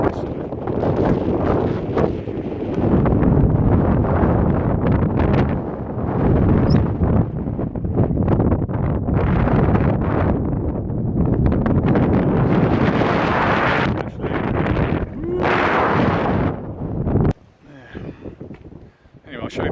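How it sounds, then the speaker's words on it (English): Very high winds buffet the microphone on open Dartmoor moorland at a wild camping spot, a loud continuous roaring gust that surges and drops, easing sharply near the end. "Shall I just step into the wind and you can hear?"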